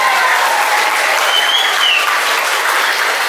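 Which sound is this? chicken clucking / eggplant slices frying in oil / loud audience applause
loud audience applause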